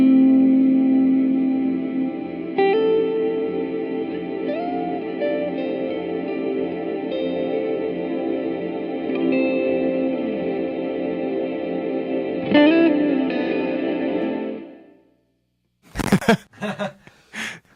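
A Big Sky reverb pedal on its small plate setting, held, sustains a dense shimmering wash of guitar tone for about fourteen seconds, then cuts off abruptly into silence before brief talk.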